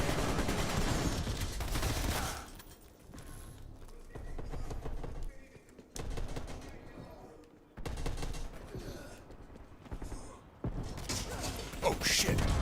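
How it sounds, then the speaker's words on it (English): Flashbang grenade thrown during Black Ops Cold War multiplayer on PS5, with loud bursts of gunfire and sharp bangs in repeated blasts between quieter gaps, and a player's voice speaking over the action. "Throwing flashbang."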